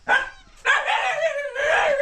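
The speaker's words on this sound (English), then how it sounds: "because the dog's making noise" Dogs at a home in Africa let out loud, close barks and yips in two bursts, with a whiny, tonal edge and a brief gap between them.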